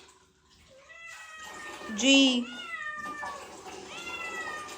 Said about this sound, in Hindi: ये आई हुई है बिल्ली।